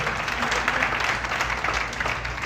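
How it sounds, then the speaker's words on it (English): Audience applause at a volunteer appreciation and kick-off meeting, a steady dense patter of many hands clapping at moderate loudness for the whole brief stretch. "Give them a big round of applause."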